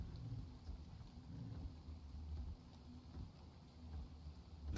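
Rain falling in ARK: Scorched Earth, a low, steady rumbling wash with a deep thunder-like roll underneath, faint and continuous with no voices.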